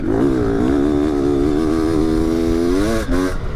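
A brand-new 500cc two-stroke motocross bike engine runs loud and close, holding a steady buzzing note with slight pitch wobble before a quick blip near the end.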